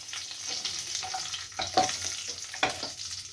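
Onions and dried red chili sizzling in hot oil in a pan, a steady close frying hiss with a few louder crackles and stirring scrapes, no voices over it.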